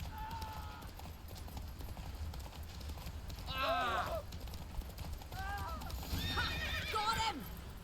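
Roach, a horse in The Witcher 3, gallops with rhythmic hoofbeats and lets out two sharp whinnies, one after the other, over a low music bed.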